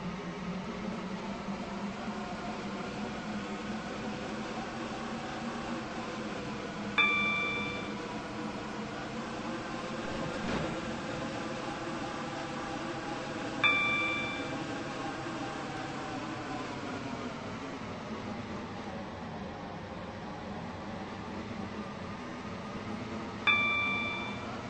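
A train rides along in the Stepford County Railway video game with a low, steady rumbling hum and occasional chimes at regular intervals.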